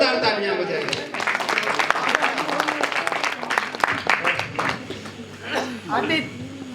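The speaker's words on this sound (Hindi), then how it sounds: "ऐसे श्रद्धेय लल्लू जी के लिए जोरदार तालियां बजाइए" A crowd at an evening poetry gathering during a Ram Janaki Dhanush Yagya fair claps loudly in a burst of applause, with a voice and some chuckling heard over it.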